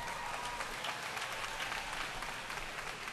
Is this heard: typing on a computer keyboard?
no